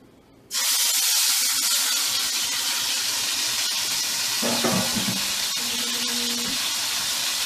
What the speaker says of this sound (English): we have our leg of lamb right now searing in the pan